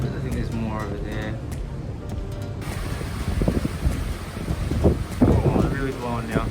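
A strong gale roars with loud, gusty buffeting against the microphone outdoors, rising in force over the final seconds, while someone talks under the wind.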